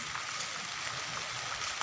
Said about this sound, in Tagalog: umuulan umuulan dito sa amin malamig